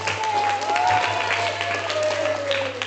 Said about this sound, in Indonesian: Beri tepuk tangan dulu buat temannya.